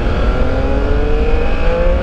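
A 2021 Triumph Speed Triple 1200 RS motorcycle accelerates hard with a loud, steady engine roar and rising pitch, captured up close over wind rush.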